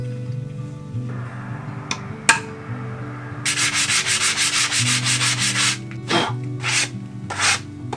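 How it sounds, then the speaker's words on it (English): Hand sanding of a wooden piece: a few scattered knocks, then a steady run of rhythmic rasping back-and-forth strokes, close and clear, with a couple of shorter rubs afterward. "I'll sand it."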